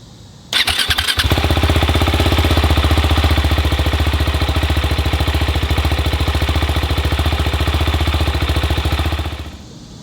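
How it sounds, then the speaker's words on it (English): A 1979 Yamaha XS1100 motorcycle cold-starts with a short crank, then catches into a loud, close, steady idle that runs evenly for several seconds before cutting off, with no talking. "Let's go ahead and get a cold start."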